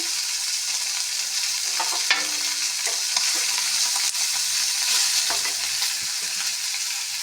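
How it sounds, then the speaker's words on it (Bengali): Steady sizzling of spices frying in a pan for a fish curry, with occasional scrapes and clinks of stirring, close and continuous, no voices. "মোটামুটি ভাজা হয়ে আসছে সবগুলো"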